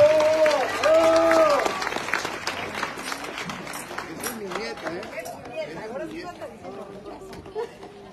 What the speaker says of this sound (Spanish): Muy fuertes sus aplausos nuevamente para Regina Primera